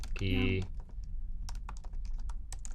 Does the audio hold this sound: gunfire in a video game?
no